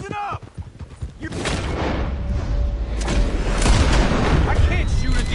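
Gunfire and heavy booms fill a Red Dead Redemption 2 shootout, building into a continuous, loud barrage with voices shouting amid the firing.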